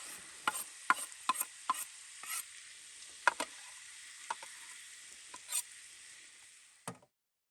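Vegetables frying in a pan at a campsite, a soft steady sizzle punctuated by sharp metallic scrapes and clicks of stirring, until it cuts off abruptly near the end.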